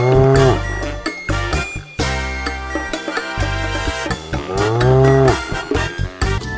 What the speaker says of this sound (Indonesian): ternyata ini sapi perah